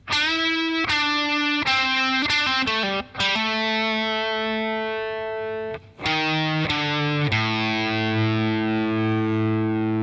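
Distorted electric guitar plays a solo lead line, with sustained notes, bends and quick note changes, loud and alone with no talking.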